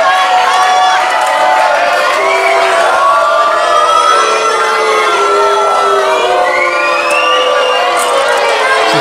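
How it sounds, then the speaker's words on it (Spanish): A loud wrestling-show crowd boos and jeers continuously, with many voices producing overlapping wavering, rising and falling tones for the full stretch. "Escucha los abucheos del público."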